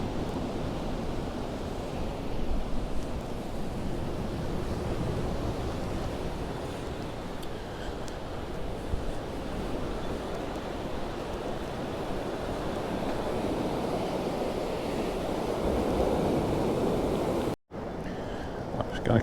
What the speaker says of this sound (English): you can see just how windy it is